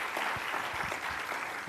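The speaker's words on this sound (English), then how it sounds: "So join me in giving the staff a round of applause." A conference audience applauds the staff at a community event with Orange County's mayor. The clapping is dense and steady, a moderately loud wash of many hands with no voices over it.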